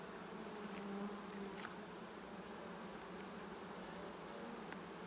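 Dense, steady buzzing of honey bees swarming over an open hive frame during a beekeeping inspection in Norfolk, a continuous close drone with no talking.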